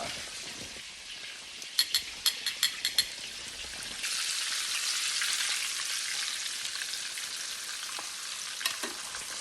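Jamaican jerk chicken frying in a pan, a steady soft sizzle broken early by a quick run of sharp utensil taps, then a louder, fuller spitting sizzle that carries on to the end.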